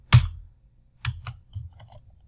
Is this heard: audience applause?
no